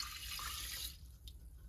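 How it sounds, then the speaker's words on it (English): About a cup of measured water is dumped into a pot of yellow rice, a close, steady splashing pour lasting under a second before it stops. "I've measured an equal amount of water and I'm dumping that in."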